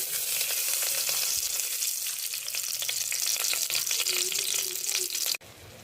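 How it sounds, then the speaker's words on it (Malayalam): Grated carrot fries in ghee in a hot pan for carrot halwa, a bright continuous sizzle with small crackles throughout, cutting off abruptly near the end to quieter background. "ഗ്രേറ്റ് ചെയ്തിട്ടുള്ള ക്യാരറ്റ് ഇതിലോട്ട് ഇട്ട് കൊടുത്തിട്ടുണ്ട്"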